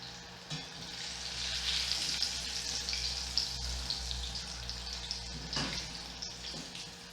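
Crispy onion sticks fry in oil, a soft continuous sizzle and bubbling with occasional light utensil taps, fairly quiet and steady with no talking.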